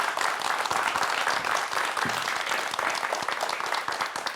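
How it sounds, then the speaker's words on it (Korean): A studio audience claps steadily to welcome a guest onto a Korean talk show, an even wash of applause that holds throughout without voices. "큰 박수로 환영해 주세요."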